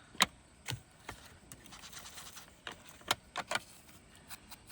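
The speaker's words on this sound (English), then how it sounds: "pick one of the large papers, crumple it, open it up" Large sheet of paper crumpled by hand for torn-flower journal embellishments, giving sharp, irregular crinkling bursts and scattered rustles at close range, with no talking.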